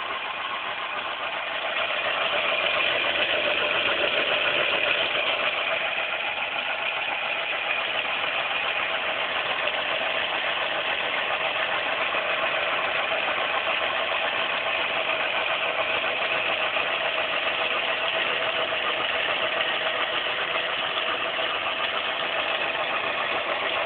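A three-coil Bedini energizer motor spins fast, giving a steady, even whir and hum that holds at a constant pitch and loudness throughout, with no voices.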